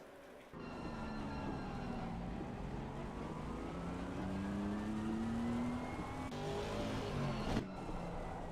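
Formula race cars on a formation lap at Imola in a racing video game, engines droning steadily with rising and falling pitch as they run through a chicane, continuous and fairly close.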